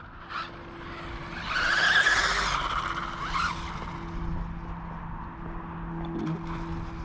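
A cheap brushless RC car lurches forward and skids, its motor whining up in a rising electric sweep with tyre scrubbing, then easing back to a lower hum.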